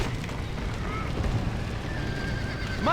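Horse whinnying inside a burning barn in the Red Dead Redemption video game, heard under a steady roar of fire and commotion, with a sharp high neigh rising near the end over continuous background noise.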